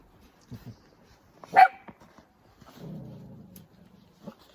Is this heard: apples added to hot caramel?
no